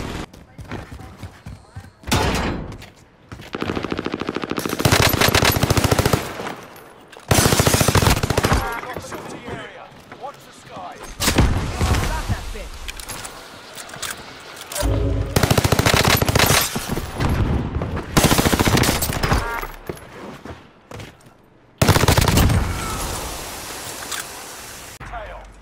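Bursts of rapid automatic gunfire and single shots ring out in a Warzone video game match, several loud volleys separated by short quieter gaps, with a player's voice talking over parts of it.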